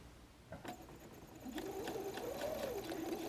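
A sewing machine runs a straight stitch with the needle centred and a 2.5 stitch length through a messenger bag. A few sharp clicks come first, then a steady, fairly quiet motor whir with a wavering hum.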